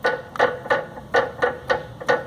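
A worn sway bar link knocking in a Peugeot 307 suspension, a close, repeated hollow clunk about every third of a second with no talk.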